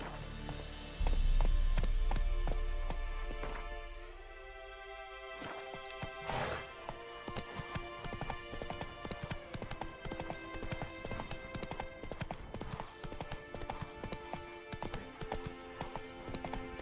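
Roach, the horse in The Witcher 3, gallops in a fast, steady clip-clop rhythm of hooves, close and continuous, over game music with a brief whinny early on.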